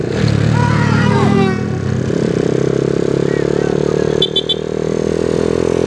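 A small motorcycle, an X model, idles and revs loudly up close on a town street in Lixouri, with a steady droning engine note, short rises in pitch and rattly mechanical clatter.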